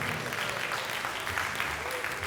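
Audience applause fills an awards ceremony hall at the Reggae Awards, steady and dense clapping from a large crowd with a voice speaking faintly over it.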